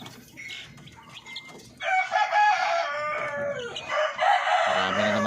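Native darag chickens and young chicks fill the coop with loud clucking, chirping and crowing, sparse at first and then a dense, continuous chorus of calls close by, with some wing flapping.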